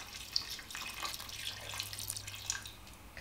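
Tap water runs steadily into a pot of potatoes being prepared for chunky potato soup, a soft continuous splashing and trickling at close range with a few sharper drips, alone without talk.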